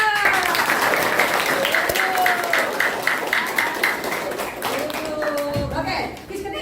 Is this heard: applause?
yes